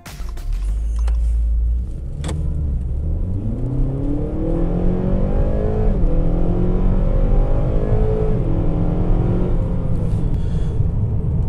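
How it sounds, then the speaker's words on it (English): A 2016 Acura ILX A-Spec drives on the road, its engine rising steadily through the gears in a loud, continuous rumble with the drone of road and cabin noise. "Driving the 2016 Acura ILX."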